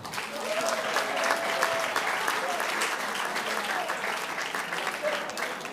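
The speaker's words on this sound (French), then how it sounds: "Applaudissez pour elle." Audience applause for a speaker's mother at a talk, steady dense clapping throughout at moderate loudness, with some voices mixed in.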